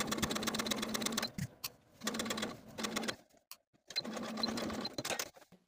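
Sewing machine stitching a dress facing from top to a marked dot with backstitching, in three loud, steady bursts of rapid running broken by short pauses.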